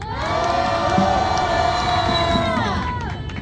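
A large crowd at a political rally calling for impeachment applauds and cheers loudly, with sustained shouting voices rising together, then fading slightly near the end.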